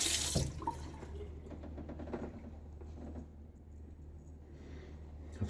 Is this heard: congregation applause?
no